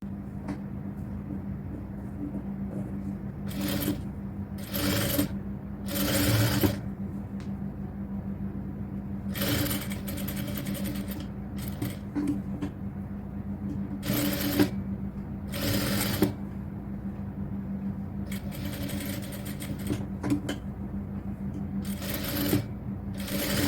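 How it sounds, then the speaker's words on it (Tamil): A sewing machine stitches the edge of a cotton top in a garment workshop: repeated short bursts of fast needle clatter over a steady low motor hum, close and without speech. "இப்போ இந்த ஓரம் அடிச்சு தைக்கலாம்."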